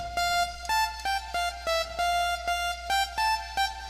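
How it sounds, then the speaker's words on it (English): A bright, buzzy synthesizer saw lead plays a short rhythmic melody of clipped notes, alone and close, with a steady low hum underneath. "hit up your presets and your dance leads, and then a simple saw, and it sounds like this"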